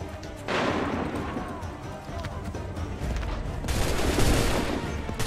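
Musket volleys in the video game Assassin's Creed III, a dense crackling burst of gunfire across the whole stretch with a second loud surge near the end, over battlefield noise.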